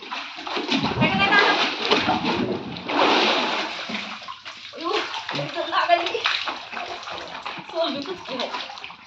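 Water being pumped out and splashing, a continuous gushing, sloshing rush with voices talking over it throughout.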